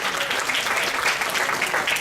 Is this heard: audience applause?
yes